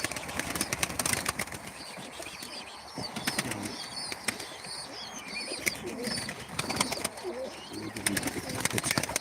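Pigeons coo softly amid bursts of flapping wings, with scattered chirps and rustling nearby, wings clattering repeatedly in short flurries, at a live pigeon auction.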